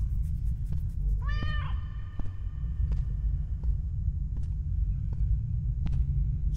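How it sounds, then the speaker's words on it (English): A single rising cat meow in a horror video game rings out over a steady low rumble, followed by a few faint clicks and ticks. "There's a kitty, pet the kitty."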